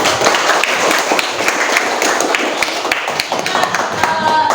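Hands clapping in a classroom lesson, a lively mix of quick, uneven claps from a small group, fairly close and loud, with some voices mixed in.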